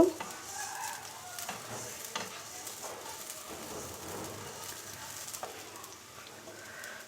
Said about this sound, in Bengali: এই বেরেস্তাটা আগে থেকে করে রাখছিলাম সেটাই দিয়ে দিলাম দিয়ে একটু নেড়ে নেব